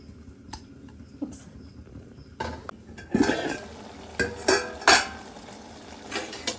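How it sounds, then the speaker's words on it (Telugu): Brinjal curry with tamarind is stirred in a pot, giving scattered spoon scrapes and sharp metallic clinks against the vessel, louder in the second half, with quiet gaps between strokes and no talk. "ఒకసారి కలుపుకుందాం."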